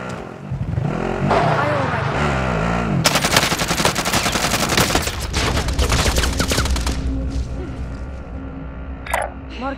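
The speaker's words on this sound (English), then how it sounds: "Enemy soldier incoming. Receiving hostile fire." Rapid bursts of video game machine gun fire crackle loudly through a firefight, dense volleys followed by scattered shots, mixed with engine rumble and radio-style voices talking over the action.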